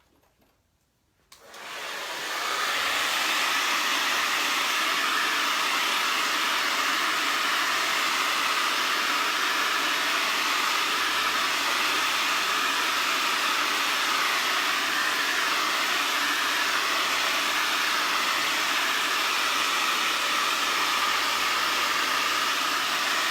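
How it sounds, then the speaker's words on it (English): After a brief quiet moment, a hair dryer switches on and blows steadily and loudly over acrylic paint, a constant close whoosh that continues without pause. "I'm going to hit this with a blow dryer"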